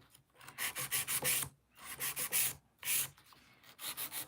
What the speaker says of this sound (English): So I'm going to do my 5-point filing.